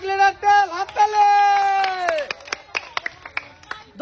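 A village audience, gathered for a 7Up-drinking contest with litres of cooking oil as prizes, breaks into scattered, uneven claps after a loud shouting voice, the hand claps sharp and spaced apart.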